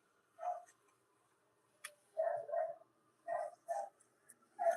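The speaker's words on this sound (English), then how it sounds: "That's the dog from the tenant upstairs." A dog barks in short, muffled bursts from an upstairs apartment, a few scattered woofs then a quick cluster, with quiet gaps between.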